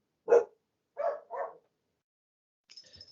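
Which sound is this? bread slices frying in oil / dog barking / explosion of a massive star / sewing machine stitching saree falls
dog barking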